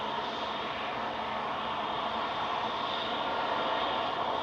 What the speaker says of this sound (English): Touching down, CSDXZ. For NetJets Europe.